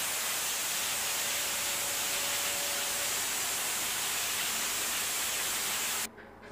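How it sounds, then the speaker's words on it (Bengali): A skilled mechanic blows compressed air to clean an automatic gearbox torque converter, making a loud, steady, broadband hiss that runs unbroken for about six seconds before cutting off abruptly. "একটি এয়ার প্রেশারের মাধ্যমে একজন দক্ষ মেকানিক এই জিনিসটাকে পরিষ্কার করে নিচ্ছে"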